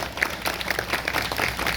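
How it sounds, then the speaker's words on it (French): An audience at a graduation ceremony for an English institute applauds the artist, a steady wash of many hands clapping at moderate distance, with no clear voices on top. "Faites-moi entendre applaudir l'artiste à chaudement, s'il vous plaît"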